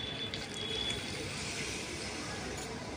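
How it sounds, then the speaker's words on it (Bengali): Water is poured from a vessel into a pan of cauliflower and potatoes fried in spices for a curry, a steady close wash of liquid running for about three seconds with no voices. "এখন আমি দিয়ে দেবো জল।"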